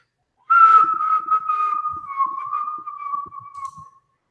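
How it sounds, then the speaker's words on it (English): A person whistles one long, clear sustained tone, steady and close, holding for about three and a half seconds with a slight dip in pitch partway through. "I whistle when I work."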